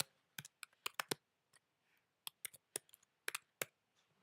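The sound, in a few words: typing text on a computer keyboard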